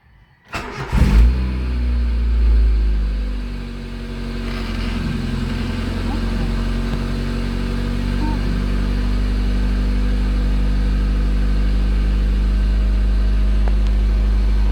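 A Honda Civic idling high even when warm, with a coolant-loss fault: the engine catches within the first second, then settles into a steady, loud, continuous low drone that holds unbroken to the end.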